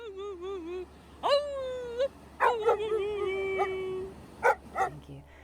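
A dog vocalizing in a string of wavering, howl-like whines and yips, some long and sliding in pitch, others short, loud and close over a low hum.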